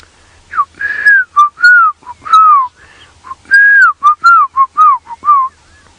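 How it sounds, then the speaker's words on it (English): A black-crowned tchagra calls in a series of clear, loud whistled notes, each a rising or slurred phrase repeated in quick bursts over several seconds, with only faint background hum and no talking. "one of my favorite birds is calling at the moment, the black-crowned shagra"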